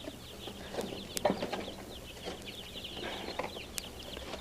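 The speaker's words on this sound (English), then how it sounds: "Oh, these are really nice chicks." Baby chicks that arrived by mail cheep in a steady, high-pitched chorus under a faint background hum, with a few soft knocks as they are handled, and no voices.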